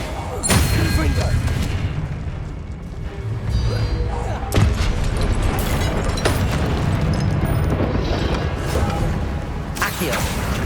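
Confringo spell explosions in the Hogwarts Legacy video game, heard as loud, repeated booms and thuds over a dense, continuous bed of game sound and music, with voices mixed into the action.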